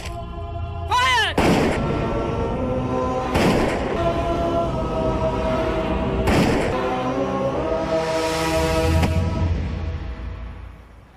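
Rifle volley fired on command in a film scene, three loud sharp blasts a couple of seconds apart with ringing echo, followed by a swelling rumble.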